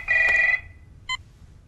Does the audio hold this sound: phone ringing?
yes